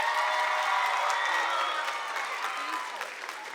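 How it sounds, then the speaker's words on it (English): A student leadership conference audience gives a round of applause, a dense, steady wash of many hands clapping that fills the whole stretch and tapers slightly near the end. "Can we get a round of applause for Mr."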